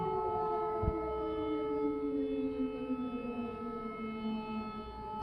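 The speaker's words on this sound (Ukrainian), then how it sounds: "Я думала, цієї сирени вже не буде." An air raid siren wails from a distance in Ukraine, its long tone slowly falling in pitch, steady and unbroken over a low background rumble.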